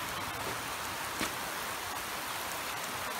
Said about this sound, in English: Just trying to plant, you know? And then rain comes.